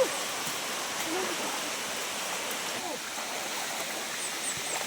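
A river in the rural Philippines rushes steadily nearby, a dense, even wash of flowing water that fills the whole stretch at constant loudness with no talk over it.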